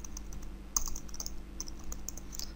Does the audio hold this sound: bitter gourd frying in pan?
no